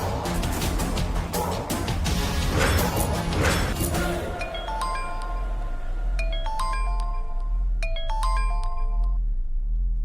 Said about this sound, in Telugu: ప్లాన్ ఏ, ఆ స్వరూపకు ఫోన్ చేద్దాం